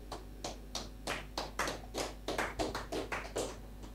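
A church congregation claps for the Lord in a steady, even beat, about two sharp claps per second, loud and close, with no voices over it.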